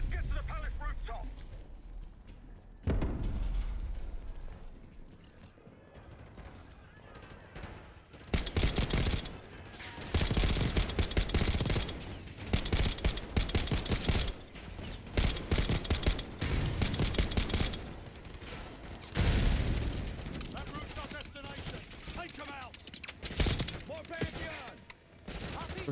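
Heavy gunfire from the Call of Duty Black Ops 6 campaign, with dense automatic bursts and repeated volleys that start quietly and then swell into loud, sustained firefights, while voices talk intermittently.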